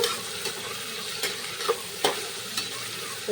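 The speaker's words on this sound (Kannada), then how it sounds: "ಇದ್ರಾಗ ಆಲೂಗಡ್ಡಿ ಹಾಕ್ತೀನಿ ರೀ ಇದಕ್ಕೆ ಚಂದ ಫ್ರೈ ಮಾಡ್ಕೊತೀನಿ ರೀ ಸ್ವಲ್ಪ" Potatoes fry in a pan with green chillies and onion, a continuous close sizzle punctuated by intermittent clattering stirs.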